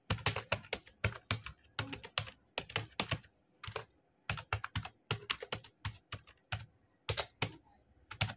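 A university name being typed on a computer keyboard, with irregular bursts of crisp, close key clicks and short pauses between words, no voices.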